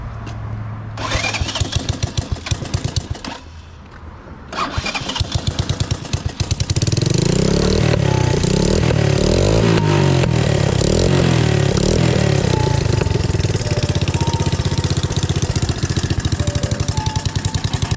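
Honda Big Red ATV engine fitted with an aftermarket Cobra exhaust, cranking over and catching, then running loud and steady with a throaty, rapid exhaust pulse that builds as it revs.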